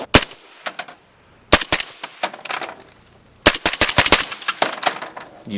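Shots from a rifle with an RR Weapons suppressor crack out in short bursts and singles, sharp and close, separated by brief pauses and ringing tails.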